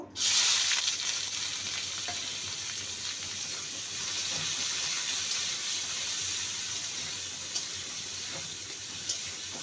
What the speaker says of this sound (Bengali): এবার আমি একটু পেঁয়াজের বেরেস্তা বানিয়ে নেব